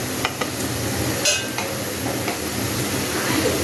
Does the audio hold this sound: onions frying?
yes